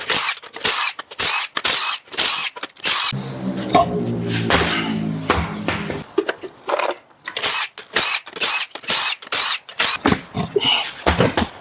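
An impact wrench with a 22mm socket zips Cadillac Escalade front wheel nuts loose in repeated short, loud rattling bursts, separated by a brief lower whirring stretch midway.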